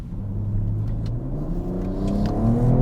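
An Alpina B3 Touring accelerates hard from inside the cabin, its engine note rising steadily in pitch and loudness as revs climb, a smooth continuous pull with a deep rumble beneath and no talking.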